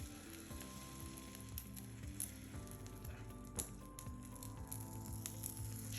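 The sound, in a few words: banana pancake batter sizzling in buttered pan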